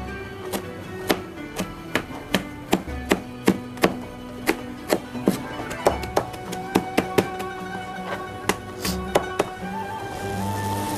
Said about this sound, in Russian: Нарезаем мелко укроп.